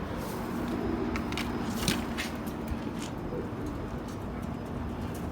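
A flock of kept pigeons, white and red birds, coo in a steady low murmur nearby, with a few soft shuffles and brief flutters along the way.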